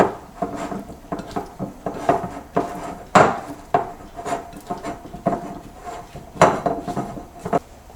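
A spoon stirs a keto dough mixture in a bowl, giving repeated scraping and knocking strokes against the sides in an uneven rhythm, close and fairly loud, with no talking.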